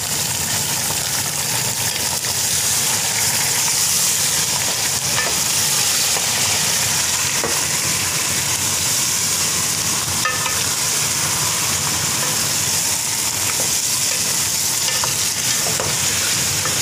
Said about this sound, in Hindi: अब हम इसमें चिकन डाल देंगे अपना।